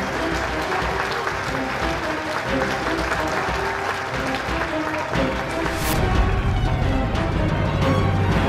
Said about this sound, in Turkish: Alia Zeyn Abdullah için alkış alayım lütfen.